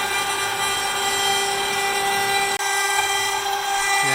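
A CNC router with a 1/4 inch bit makes tiny incremental passes across a wooden guitar fretboard, producing a steady high tonal whine with a constant hum underneath and a brief dropout partway through, close and loud with no talking.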